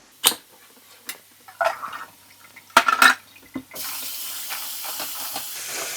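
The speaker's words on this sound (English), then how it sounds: "Washing my beans." Beans being rinsed in a pot, a few sharp knocks and clatters, then a steady close rush of running water filling and splashing, with no one talking.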